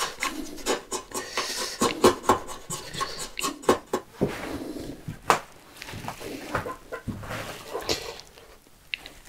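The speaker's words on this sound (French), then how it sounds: "je prends mon ciseau comme ça, puis je vais venir enlever ce qu'il y a de trop" A wood chisel pares away excess wood while building a saw rack, giving close, uneven scraping and rasping strokes with sharp cuts in quick bursts, then slower, sparser scrapes.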